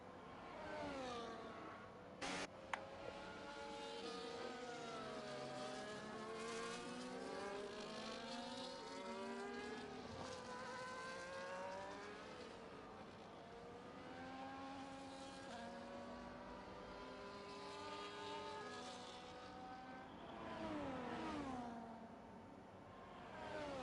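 Race cars roar and whine at high revs through the Baku street circuit in a sim racing game, one car using DRS to overtake a Ferrari, engine pitch sweeping up and down continuously and loud throughout.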